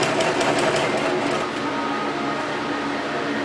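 A walking-foot sewing machine stitches a golf cart seat cover with a rapid, steady mechanical chatter, close and continuous for the whole stretch, easing slightly in loudness partway through.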